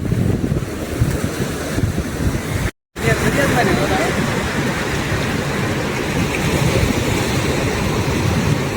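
Sea waves wash steadily onto the Alang shore in rainy weather, a continuous broadband surf roar with heavy wind buffeting the microphone, loud and unbroken apart from a brief dropout.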